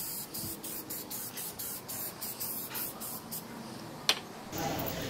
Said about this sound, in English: Paint time.